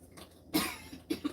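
A person coughs several times in short bursts while cooking, with one louder cough followed by two quicker ones, close and alone with no talk.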